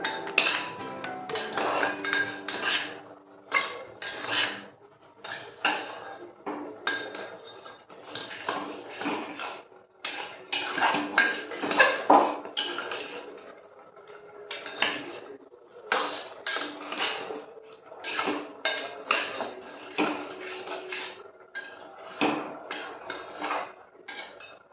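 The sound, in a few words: stirring spices in a cooking pot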